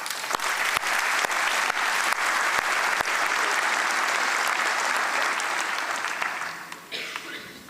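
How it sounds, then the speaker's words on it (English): Warm audience applause greets Rainer at the opening of a makeathon, dense steady clapping sustained for several seconds with a few sharp louder claps, then thinning out near the end. "give a warm applause for Rainer"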